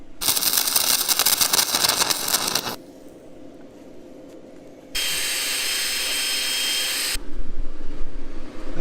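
Steel bracket pieces for a winch bumper being welded, two long stretches of loud, steady crackling buzz split by quieter workshop hum.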